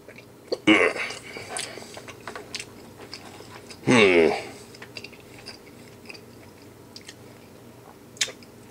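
Old combat ration food is chewed and bitten close up, with two wet, crunchy bursts of mastication separated by quieter moments and small mouth clicks.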